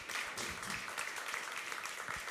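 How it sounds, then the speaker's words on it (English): An audience at a real estate producers' session gives a round of applause, a short burst of many hands clapping at moderate distance, steady for a couple of seconds. "Can we give everyone just a round of applause for keeping us going?"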